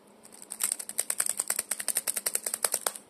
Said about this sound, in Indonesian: Keyboardnya ini keyboard jadul.